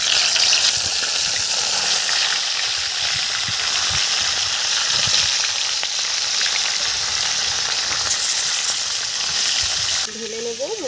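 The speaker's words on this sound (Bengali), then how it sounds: "তেল গরম হয়ে গেছে, মাছ ছেড়ে দিচ্ছি তেলের মধ্যে।" Rohu fish pieces sizzle loudly in hot oil, a steady broadband crackle with faint stirring, fading slightly near the end.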